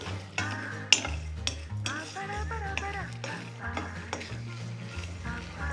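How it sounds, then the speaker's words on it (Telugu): Red chillies and spices dry-roasting in a pan without oil give a soft crackle under repeated scraping stirs and light clatters of the utensil against the pan. "ఇవన్నీ దూరగా డ్రై రోస్ట్ చేసుకోవాలి అస్సలు ఆయిల్ వేసుకోవద్దు డ్రై రోస్ట్ మాత్రమే చేసుకోవాలి"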